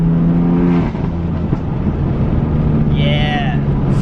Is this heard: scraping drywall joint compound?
no